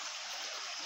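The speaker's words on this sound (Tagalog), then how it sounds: "ito yung tubig na ginagamit nila para pangbanla sa lupa para makuha nila yung ginto" Water flows steadily at a small manual gold mine where it is used to wash soil for gold, a continuous close rushing stream with no talk over it.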